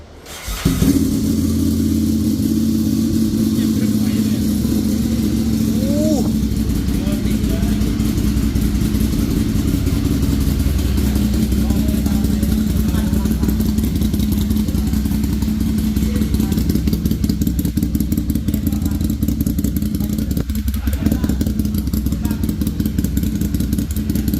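A motorcycle engine starts up close by and keeps running loudly, idling and revving with a steady rough rumble throughout.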